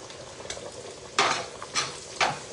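Food browns in a hot pan for pasta while being stirred, giving a soft sizzle under a few louder scraping stirs spaced about half a second apart, close and fairly quiet.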